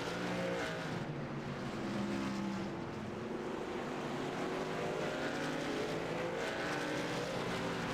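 Racing trucks' engines in a sim racing game, a continuous loud drone of several engines with shifting pitch as the trucks run down the backstretch and through the turns.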